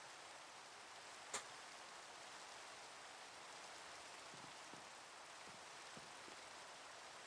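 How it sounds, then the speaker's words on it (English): Steady rain falls in the Minecraft video game as an even hiss, with one sharp tick near the start and a few soft, faint taps later on. "And the rain might stop in a second."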